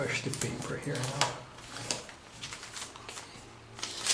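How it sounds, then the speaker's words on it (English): Paper being folded and squashed flat while shaping a Robert J. Lang origami orchid blossom, heard as close, crisp crinkles and rustles in short bursts, with a voice talking over them. "squash the paper here now."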